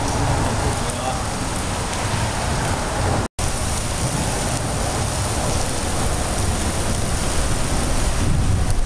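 Pouring rain at an I-95 underpass in Florida, a loud, dense, unbroken hiss of falling water that fills the whole scene with a brief dropout partway, with no thunder evident and some voices faintly underneath.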